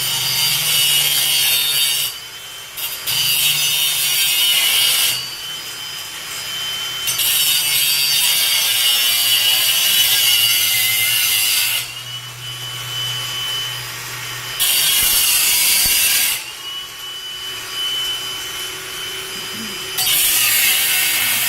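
A power tool cuts through wood in several long passes, each loud, grinding stretch broken by short pauses before the blade bites in again, with no voices present.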